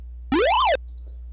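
A single PSG chiptune sound effect: a bright square-wave tone that sweeps upward then bends back down in pitch, lasting about half a second over faint background hum.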